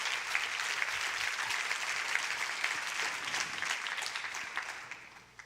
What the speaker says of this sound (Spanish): Dale fuerte ese aplauso al Rey